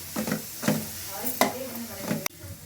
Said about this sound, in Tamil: இஞ்சி, பூண்டு, கருவேப்பிலை 3 இடித்து வச்சுருக்கிறத சேர்த்துட்டு வதக்கணும்.